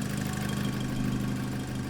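A tuned VW Caddy fitted with a 2-litre TFSI engine from a Cupra, running a KO4 turbo, idles steadily with a low, even rumble up close, with no talking.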